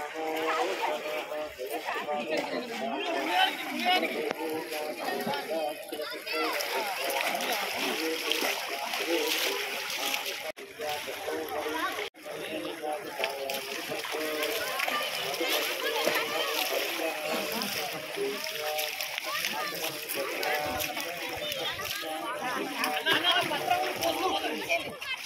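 Splashing and rushing water from people bathing in the Godavari river at Dharmapuri, a constant wash of splashes with voices and children talking throughout.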